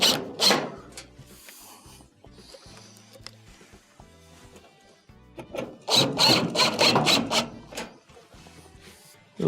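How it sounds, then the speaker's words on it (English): Screws being reinstalled on a GE dryer top during a top bearing assembly repair, with bursts of screwdriver whirring and ratcheting alongside scattered metallic clicks and handling noises, close and fairly quiet. "Reinstall your two screws on the top."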